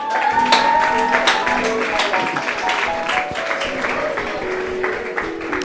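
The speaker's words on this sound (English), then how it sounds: "can we clap for her?" Audience clapping for a woman, a scattered and moderately loud round of applause with voices talking over it and a sustained tone running underneath.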